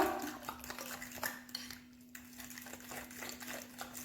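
Eggs and cream cheese being mixed in a bowl give off clinking, scraping utensil-against-bowl sounds, a steady run of small knocks at close range with no voices.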